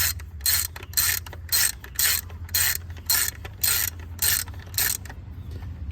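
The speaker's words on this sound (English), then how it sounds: "then I'm gonna get my ratchet and 10mm" A ratchet with a 10mm socket clicks in about ten evenly spaced bursts on a 2006 Dodge Dakota 4.7L engine during spark plug work, crisp and close against a low hum.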